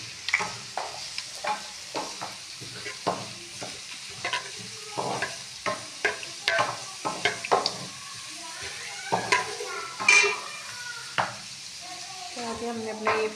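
Cumin seeds fry in hot oil in a pan with a soft, continuous sizzle, broken by repeated sharp taps and scrapes of a spoon stirring at an uneven rhythm, close by with no talking.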